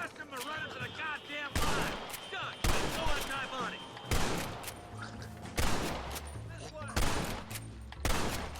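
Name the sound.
rapid gunshots at a rope in the video game Red Dead Redemption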